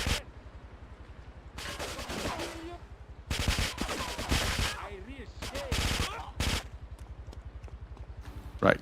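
Bursts of gunfire in the GTA III video game, several loud rapid volleys separated by quieter stretches of game sound, with someone talking briefly.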